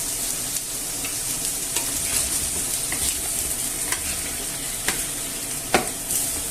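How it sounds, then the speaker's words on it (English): Chorizo fries in a paella pan in a continuous close sizzle, with scattered scraping and clicking strokes from stirring over the top. "what I'll do also at the same time is add the chorizo in"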